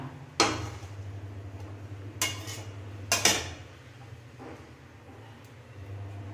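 Cauliflower stem paste being served from a pan into a bowl: a few sharp metallic clinks and scrapes of a utensil against cookware, spaced irregularly over a low steady hum, close and fairly clear.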